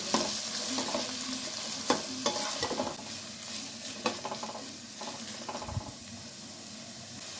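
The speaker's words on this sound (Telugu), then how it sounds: "ఇందులోనే సన్నగా కట్ చేసిన రెండు మీడియం సైజు ఆనియన్స్ కూడా వేసి లైట్గా ఫ్రై చేసుకోవాలి" Two medium onions, thinly sliced, fry lightly in hot oil in a pan for a dhaba-style potato curry: a steady sizzle and hiss runs throughout, broken by sharp clacks and scrapes of stirring, close and without voices.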